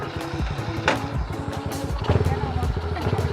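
A motorcycle engine putters and revs in short uneven bursts, fairly close, while people chat over it.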